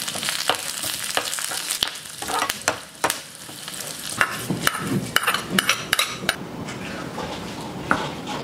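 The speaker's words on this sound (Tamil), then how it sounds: "கூடவே கொஞ்சம் கருவேப்பிலை சேர்த்து லைட்டாக வதக்கிட்டு சிக்கனில் சேர்த்து நல்லா மிக்ஸ் பண்ணி விடுங்க" Garlic, dried chillies and curry leaves sizzle in hot sesame oil in a pan while a spoon stirs and scrapes, with frequent sharp metallic clinks over a steady frying hiss, close and unspoken.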